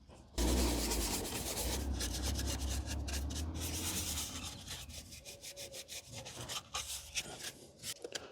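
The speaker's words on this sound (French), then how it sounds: "Sinon, comme d'habitude, un vieux pinceau." An old paintbrush scrubs dirt off a car's exterior, a close, continuous bristly rubbing that starts loud and gradually roughens into shorter, uneven strokes, with no voices.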